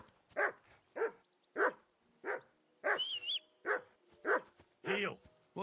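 Dog in the medieval role-playing game Kingdom Come: Deliverance 2 barking in a steady series of about nine close, loud barks at roughly half-second spacing, with a brief higher whine near the middle.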